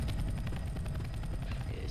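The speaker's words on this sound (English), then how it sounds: "Look, a chopper. Get to the chopper." Helicopter in the video game Left 4 Dead 2, a steady loud rotor drone with rhythmic thumping held throughout, with faint voices in the mix.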